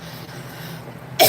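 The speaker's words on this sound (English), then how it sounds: "I'm just coughing" A single sharp cough bursts out close at the very end, after a second of quiet room noise.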